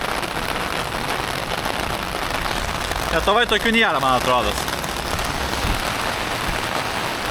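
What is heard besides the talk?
heavy rain falling, growing stronger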